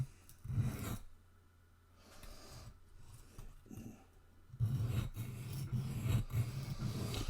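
A Spyderco Delica knife blade scrapes across a sharpening stone in a few short rasping strokes, close and fairly quiet, with pauses between passes.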